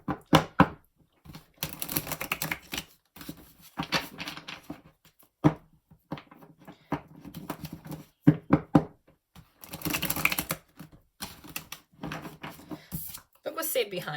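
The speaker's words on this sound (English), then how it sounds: "let me shuffle a little bit" A deck of tarot cards is shuffled by hand in irregular bursts of papery riffling and tapping, close up, with brief pauses between handfuls.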